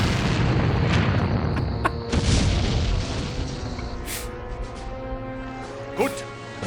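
Naval guns on a battleship firing in a video game, giving deep booms and explosions over a continuous rumbling din, with a sharp blast late on and faint voices mixed in.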